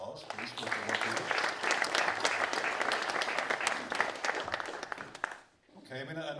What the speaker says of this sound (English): So could we all give Andy a bit of a round of applause, please, for the work he did.